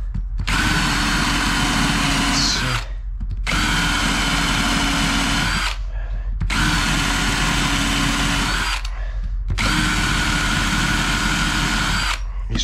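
A power drill with a hole saw whines loudly in four long bursts, each a few seconds long, with brief pauses between them, while fitting an interior door.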